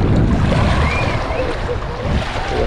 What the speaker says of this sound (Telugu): గాలి అయితే హెవీ విండ్ ఉంది. ఇక్కడ సముద్రంలో వచ్చినట్టు వస్తున్నాయి వలలు.